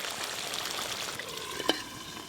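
Fish curry sizzles hard in a hot pan while being stirred, a dense close frying hiss with a single sharp scrape of the spoon near the end.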